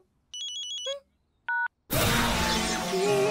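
A phone at a family dinner table plays a rapid series of dialing beeps, then a brief two-tone chirp, before a burst of busy, noisy sound takes over.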